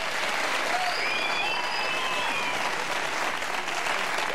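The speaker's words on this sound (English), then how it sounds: "You don't have to applaud." Studio audience at a 1984 Tonight Show taping breaks into sustained applause, a dense, even wash of clapping from a large crowd that fills the whole stretch.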